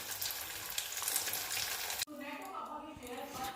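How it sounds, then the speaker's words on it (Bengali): Kofta balls frying in hot oil until reddish, a steady close sizzle that cuts off abruptly partway, followed by a quieter bubbling with a person talking over it. "কোপ্তার আকারে আমি এগুলোকে একটু লাল লাল করে ভেজে নিয়ে আসছি।"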